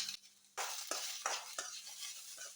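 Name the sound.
frying ginger garlic paste in a pan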